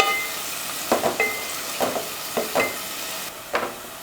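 Onions with curry leaves sautéing in a pan for egg kurma, cooked until golden: a steady low sizzle with several scraping stirs at irregular intervals, close and moderately loud, no talking.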